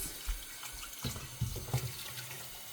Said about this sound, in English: So now I am going to wash my veggies.